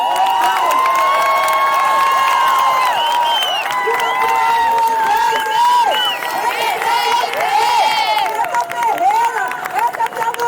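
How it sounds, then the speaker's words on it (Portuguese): An audience at a Black women's cultural event cheers and claps for a poet, loud crowd noise with whoops, shouts and overlapping voices layered over continuous clapping, swelling in waves throughout. "Pra Tila Pilar eu peço aplausos,"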